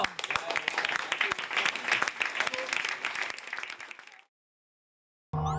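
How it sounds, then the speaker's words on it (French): An audience claps loudly and steadily for several seconds with sharp individual hand strikes audible, then the applause cuts off abruptly into silence before another sound briefly begins. "On peut les applaudir très fort."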